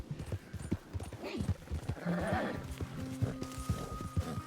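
Horse hooves clip-clopping in a video game, a quick rhythmic patter of hoofbeats with a brief whinny, mid-distance and moderately quiet, mixed with game ambience and a voice speaking over it.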